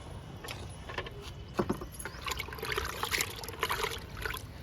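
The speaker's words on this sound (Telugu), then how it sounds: "ఈ మొక్కకి ఇద్దామండి లిక్విడ్, కిచెన్ వేస్ట్ లిక్విడ్." Kitchen waste liquid fertilizer poured from a container onto a garden plant, a steady trickle and splash lasting several seconds with faint clinks, close and alone without talk.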